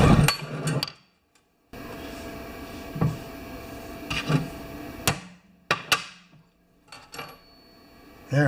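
Several sharp metallic hammer blows ring out one at a time, irregularly spaced, each striking a metal punch with a bright clink while making a valve lapping tool, separated by short quiet pauses.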